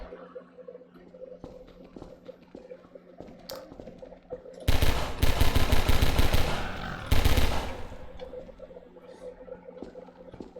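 Loud bursts of rapid automatic gunfire in the video game Half-Life 2, two sustained volleys over a low ambient hum, with quieter background sounds before and between.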